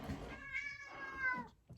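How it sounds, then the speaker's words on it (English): A cat gives a single drawn-out, rising and falling meow at close range, loud and clear, with a faint thump at the end. "Pretty cute cat."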